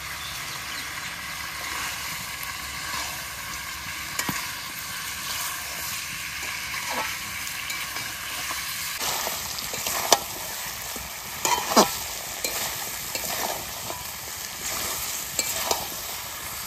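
Desi chicken sautéing in a pan with turmeric and Kashmiri chili powder, a continuous close sizzle with stirring scrapes and occasional spatula knocks that grow busier partway through.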